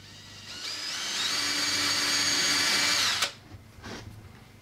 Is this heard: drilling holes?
yes